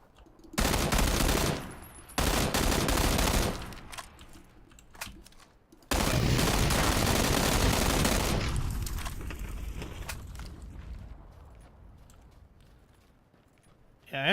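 Loud gunfire bursts in PlayerUnknown's Battlegrounds on a test server, two long automatic volleys and a sustained stretch of shooting that fades into quieter ambience, with a sharp shot returning at the end.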